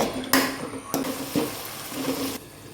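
Ground tomato frying in a pan for a stone crab sukka, a steady soft sizzle with a few sharp clinks and scrapes of a spoon stirring against the pan.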